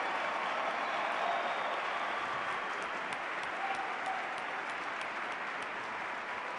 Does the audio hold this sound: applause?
yes